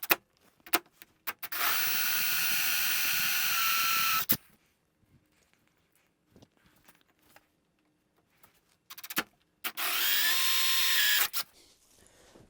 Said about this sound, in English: hole saw that we're going to need is a 1 1/8 inch hole saw, and we have to do it on the 2 middle holes that we drilled.